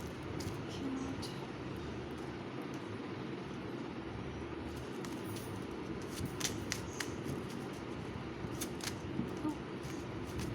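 A handmade intuitive tarot deck is shuffled by hand, a steady papery riffle and rustle running throughout at close range with a few sharper card snaps near the end.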